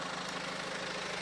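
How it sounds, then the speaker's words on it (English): A BMW F31 car engine idles steadily, a brief continuous hum with a broad, even rumble and no voices. "I've got my engine running"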